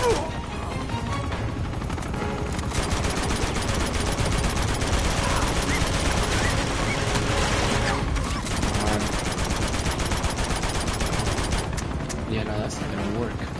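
Dense rapid gunfire rattles through a firefight in the video game Uncharted 2: Among Thieves, loud and sustained with bursts and crashes, a voice talking over it.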